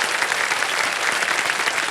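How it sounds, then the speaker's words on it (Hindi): A studio audience at a television quiz show applauds, a dense and steady burst of clapping heard up close. "ताली बजाना आप लोग का।"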